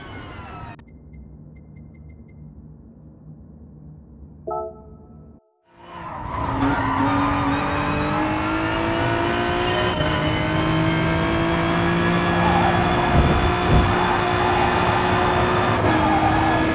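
A race car in Gran Turismo Sport on PS4 Pro roars up to full throttle after a brief quiet menu-like stretch, engine rising to a loud sustained high-revving whine with tire squeal, no speech.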